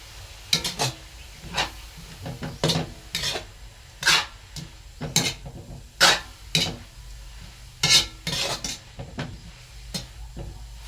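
Kangkong and dried fish are stirred in a pan without oil, giving repeated scraping and clattering strokes of a utensil against the pan in an irregular rhythm, close and fairly loud, with a faint sizzle underneath.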